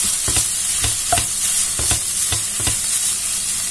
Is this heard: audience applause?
no